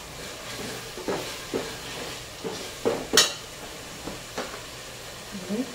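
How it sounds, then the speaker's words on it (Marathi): A masala spice mix with turmeric and asafoetida roasts in hot oil for potato bhaji, with a low steady sizzle under repeated scraping and stirring knocks of a spoon against the pan, close and moderately loud. "मसाला चांगला भाजून घ्यायचा"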